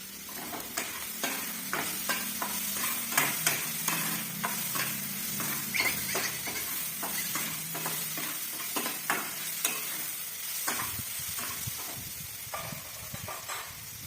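Ingredients being sautéed and stirred in a pan, with finely chopped items cooked well before tomato is added; a steady sizzle runs throughout with frequent scraping spoon strokes at an irregular rhythm, close and clear, no talking.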